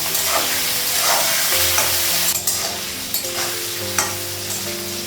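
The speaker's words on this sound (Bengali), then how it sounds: "দেখুন মাংসটা ভাজা হয়ে গেছে" Meat with onion sizzling in a pan while being stirred, giving a loud continuous fry with repeated scraping strokes of a utensil against the pan, close and without talk.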